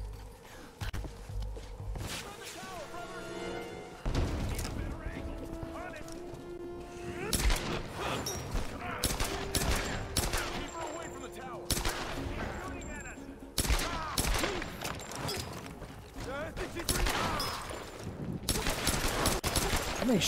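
Gunfire rings out during a Tomb Raider (2013) video game session, with repeated shots and bursts of fire over roughly twenty seconds mixed with footsteps and other game sounds at a steady, fairly loud level.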